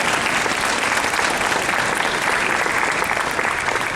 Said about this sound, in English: Please, let's give them a round of applause for this amazing event tonight.